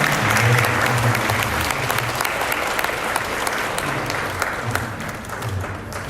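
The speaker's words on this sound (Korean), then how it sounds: "여러분 큰 박수로 시작을 해주시기 바랍니다." Wedding guests at a hotel ceremony applaud steadily, a dense, close wash of clapping that holds for several seconds while low music plays underneath.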